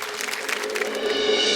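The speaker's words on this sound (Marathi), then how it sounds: "एकदा जोरदार टाळ्या ह्या ताईंसाठी झाल्या पाहिजे" An audience claps together in a hall, a dense, even burst of applause at moderate volume that holds steady without cheering.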